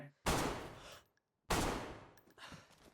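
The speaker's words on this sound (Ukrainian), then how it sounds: "Вистрілив." Two loud, sharp gunshots ring out in the DayZ video game on the Livonia map, about a second apart, each with a long echoing decay and no voices over them.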